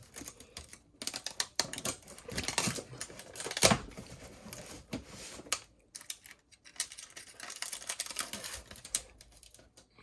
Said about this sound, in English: I'm gonna tape this bad boy up for you.